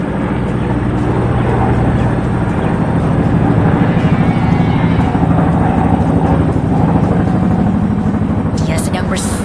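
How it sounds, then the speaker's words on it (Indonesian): A low-flying airplane passing over a river, engine drone steady and fairly loud for the whole span, with a faint high whine near the end. "Pesawat itu terbang sangat rendah di atas sungai."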